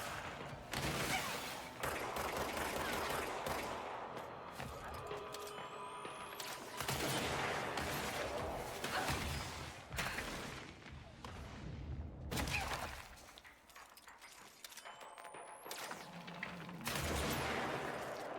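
Sustained video-game gunfire in Control, dense bursts of automatic fire and booming shots from enemies, loud and near, broken by brief lulls and a few sharp whooshing projectile sounds.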